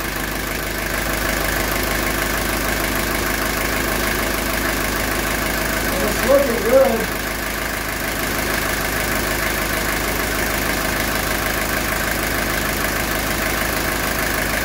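A 1982 Mercedes 240D diesel engine idles with a steady, even clatter, close and continuous throughout, with a brief louder bump partway through.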